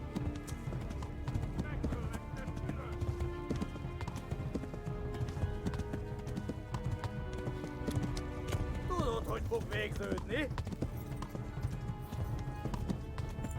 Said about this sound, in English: So that's the canter.